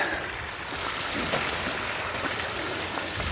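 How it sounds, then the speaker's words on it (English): Steady rushing, splashing water from a backyard garden fountain flows continuously at close range, a constant broadband wash with no voices. "we've had another water feature put in at this place, but it's a little bit different."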